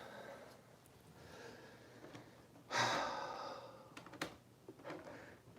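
A dog pants softly near a live model-train layout, a faint series of breathy huffs with one louder, longer exhale in the middle, over a low background hum.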